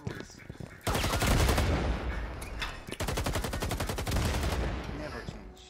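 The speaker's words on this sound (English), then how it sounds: "I hear gunshots" Rapid bursts of video game gunfire crackle in dense, sustained volleys, loud and close, with a brief pause before another stretch of automatic shooting.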